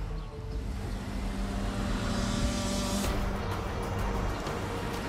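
A car's engine pulls hard under heavy throttle, a steady loud drone rising in pitch and building across the stretch, with broadband road and wind noise all around.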